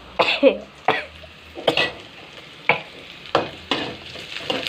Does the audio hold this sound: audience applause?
no